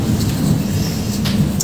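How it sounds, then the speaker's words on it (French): A thunderstorm rolls on as a continuous low rumble of thunder with steady rain hiss. It is fairly loud and close throughout and no one speaks. "sacré orage."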